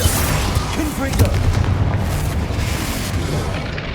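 Confringo explosive spell blasting in Hogwarts Legacy combat, heavy booming explosions with deep rumble and crackling debris, loud and dense for several seconds, with voices in the fight mixed underneath.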